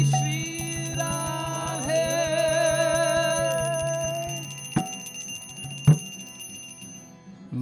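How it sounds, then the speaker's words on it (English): Bells ringing at temples nearby, a steady run of clear, sustained metallic tones with a rhythmic clanging beat that fades out, followed by two sharp single strikes. "that's temples nearby, bells ringing"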